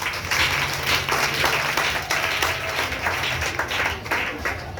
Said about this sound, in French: Acclamez vos femmes.